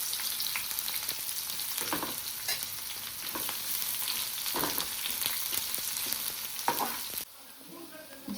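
Onions and whole spices sizzle and fry in hot oil for a chicken biryani, a steady crackling hiss with stirring scrapes and a brief pause near the end, close and fairly loud with no talk.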